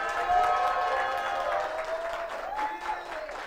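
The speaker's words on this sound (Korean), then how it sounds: "제작진들에게 큰 박수 한번 부탁드립니다" An audience at a political academy lecture in Gwangju claps for the production staff, a moderate steady patter with a voice talking over it.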